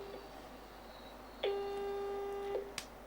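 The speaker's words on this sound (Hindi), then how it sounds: "कॉल लाइन कट हो गई।" On a phone line during a call-in broadcast, the connection drops with a steady electronic tone lasting about a second, framed by clicks, over faint line hiss.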